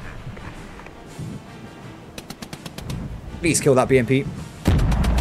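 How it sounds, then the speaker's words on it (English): Artillery fire and gunfire in the Cold War real-time strategy game Regiments: a string of sharp, evenly spaced reports, then heavier booming blasts, all mixed under talking voices. "We're doing an artillery barrage to assist our allies"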